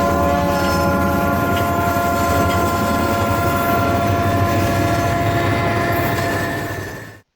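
A Chihuahua-Pacific railway train, the Chepe, rolls by loud and close, its steady rumble topped by a long sustained horn blast that runs nearly the full length before cutting off abruptly.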